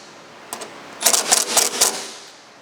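Bolts being tightened on an aluminum rear diffuser for a C8 Corvette Stingray, heard as a short cluster of four or five sharp, rapid ratcheting clicks close by, following one faint tick, with no talking.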